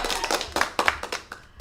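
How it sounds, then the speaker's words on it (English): A small group gives a short round of applause to welcome a guest on a live sneaker show: a brief, fairly close patter of a few pairs of hands with distinct individual claps that thins out toward the end. "We're gonna give you a little round of applause like we do with all our"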